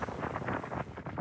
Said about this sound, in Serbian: Izuzetno jak vetar duva i dalje ovde peščana oluja